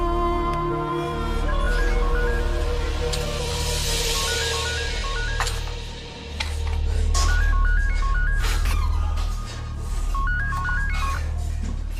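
Telephone dialing tones beep in quick stepped sequences, repeated in several short bursts, over a low background rumble with no talk.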